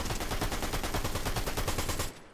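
A video game gun fires a rapid, steady automatic burst of evenly spaced shots, loud and close, lasting about two seconds before cutting off.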